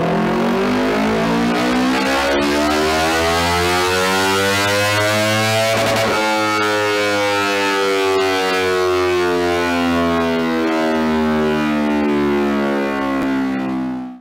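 A Kawasaki Ninja 250 two-cylinder motorcycle engine revs loud and close, a steady throbbing drone that climbs in pitch through several rising sweeps and then holds, with no voices.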